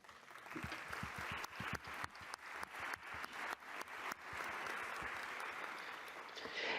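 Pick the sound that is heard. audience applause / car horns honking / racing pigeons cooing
audience applause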